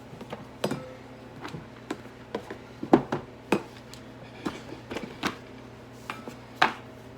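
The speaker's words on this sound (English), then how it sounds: "I'm going to put in a 1/4 cup of walnuts" Walnuts go into a bowl or processor for dandelion pesto. They drop in scattered, sharp little clicks and taps, some louder than others, spread irregularly across several seconds in a quiet room.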